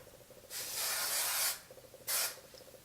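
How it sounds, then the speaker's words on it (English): Hairspray mists onto curled hair in two close bursts: a longer hiss of about a second, then a brief quieter spritz shortly after, against a faint background hum. "I'm just gonna spray all of the curls."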